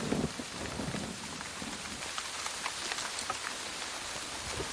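Rain falling steadily, a soft, even hiss of drops on surfaces with scattered patters, fairly faint and continuous, no voices.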